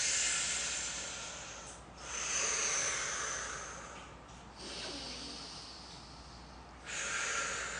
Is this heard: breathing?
yes